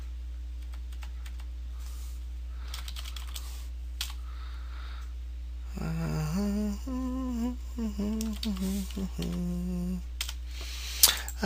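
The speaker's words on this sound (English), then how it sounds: "You can already see, as I'm typing out this" Light, irregular clicks of typing on a computer keyboard, close and quiet, with a steady low hum and a voice murmuring partway through.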